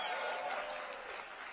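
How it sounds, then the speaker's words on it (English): Crowd at a Trump rally breaking into applause and cheering, a dense wash of clapping that holds steady and then eases slightly toward the end. "Cheers and laughter erupted"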